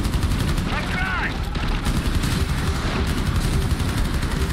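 In the Rainbow Six Extraction video game, a frag grenade goes off amid rapid bursts of gunfire, with sharp cracks and booms layered over a dense, loud battle din and a brief synthetic whine.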